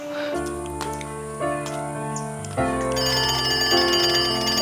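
A phone rings with repeated electronic tones over a steady musical background, the rings continuing at a regular pace.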